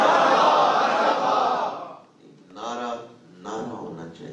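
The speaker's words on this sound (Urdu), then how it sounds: "استقبال کی نیت سے ایک دفعہ ہم نعرہ لگا رہے ہیں، آمد رمضان" A crowd gathered for a Quran lesson chants a religious slogan welcoming Ramadan, first one loud massed shout and then two shorter group calls, with a brief hush between them.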